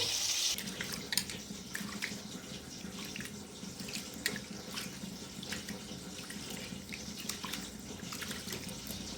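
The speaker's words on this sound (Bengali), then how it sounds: "ভালোভাবে চালটাকে ধুয়ে নিতে হবে" Water runs steadily from a kitchen tap while rice is washed under it for a chicken biryani, a continuous close splashing wash with light clinks and swirls, and no talking.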